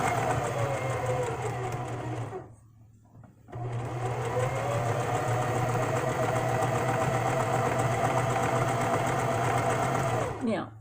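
Sewing machine stitching steadily, briefly pausing, then stitching in reverse to lock the stitch and running on at an even whirring rhythm, close and loud, with no talk over it.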